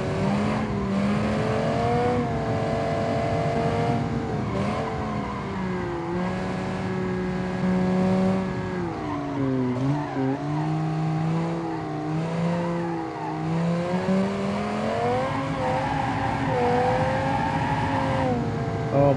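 An SUV fitted with a V10 engine, driven in BeamNG and slowed by downshifting through the gearbox: a loud, continuous engine roar whose pitch rises and falls with gear changes, with some tire squeal.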